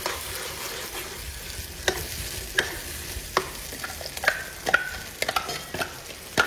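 A paste of ground coconut, tomato and onion fries in a pan, sizzling softly under a series of sharp, irregular clinks and scrapes as a spoon stirs it, close and without talk.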